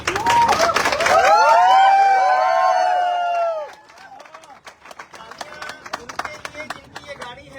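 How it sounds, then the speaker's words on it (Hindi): Clapping from a crowd gathered at a celebration for a new Baleno car. Cheers and loud voices open the clip, then thinner, scattered claps continue as the noise dies down. "मैं चाहूंगा एक जोरदार तालियां सारे लोग बजा दीजिए।"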